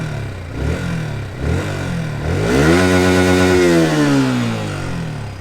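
A 2023 Yamaha R15 V4 150cc motorcycle engine fires up and revs hard, the pitch sweeping up and down in loud, close bursts before settling back, with no talking.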